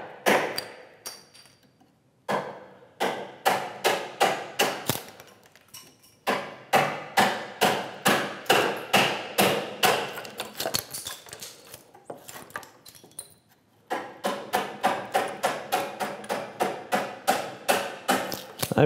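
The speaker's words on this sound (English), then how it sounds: "I'm going to come in here now and take out the waste." A mallet drives a chisel into a workbench timber to chop out waste, with sharp woody strikes coming in quick rhythmic bursts separated by short pauses, close and fairly quiet, with no speech.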